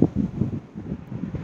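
A heat pump's outdoor unit runs with its fan blowing air, a soft, low, wind-like rush that swells and fades slightly, faint and steady with no voices.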